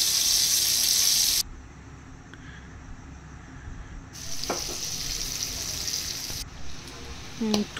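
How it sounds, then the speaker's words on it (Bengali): Chicken popcorn pieces deep frying in oil, a loud bubbling sizzle that drops away, returns softer with clinks and light handling noises, then fades again, no talk. "নিজেদের ভালো তেলে দেখো এক এক করে এটাকে দিয়ে ভেজে নিচ্ছি ভালো করে।"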